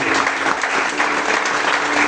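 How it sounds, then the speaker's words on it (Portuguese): A church congregation claps together during a worship service, a loud, continuous wash of applause filling the whole moment with no voice standing out. "Vamos aplaudir em forte agora"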